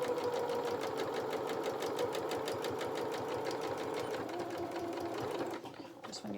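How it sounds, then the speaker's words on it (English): Electric sewing machine stitches the body of a fabric otter toy, a steady close, fast mechanical whirr with regular needle clatter that runs unbroken, then stops and gives way to quiet handling near the end. "Then we're going to sew up, starting 1/4 inch in, needle in the work because we don't need to pivot"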